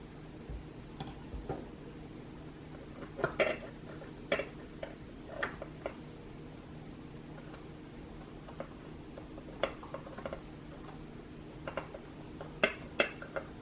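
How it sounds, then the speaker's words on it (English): Gold detachable handles clicking onto Carote non-stick pans: a series of sharp metallic ticks and clacks, some in quick pairs, spread irregularly over a steady low room hum with no talking. "And now I'm going to take the handles. They're a gold. And we're going to put them on the pans here."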